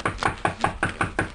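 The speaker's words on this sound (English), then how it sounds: "Hark, someone knocks." Seven evenly spaced knocks rap on a wooden door, sharp and close, filling the short stretch with a steady rhythm and no talk.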